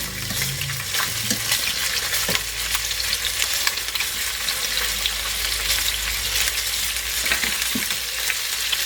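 Pieces of meat brown in a hot pan, a dense steady sizzle and crackle of frying fat with occasional scraping and stirring, close and continuous without talking.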